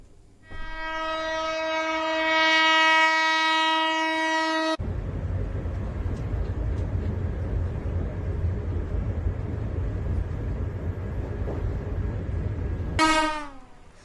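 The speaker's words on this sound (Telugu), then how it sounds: "వందే భారత్ స్లీపర్ రైలు 180 కిలోమీటర్ల వేగంతో దూసుకెళ్లింది." A Vande Bharat Sleeper train sounds a long, loud multi-tone horn, then rushes past at about 180 km/h with a steady roar, and a second horn blast cuts in near the end.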